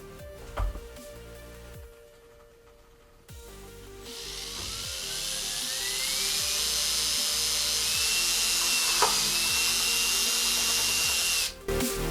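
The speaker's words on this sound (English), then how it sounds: "Ready to drill holes in this thing?" A power drill bores holes into a fifth-generation Camaro rear spoiler: a few short bursts, a pause, then a long steady high whine that cuts off abruptly near the end.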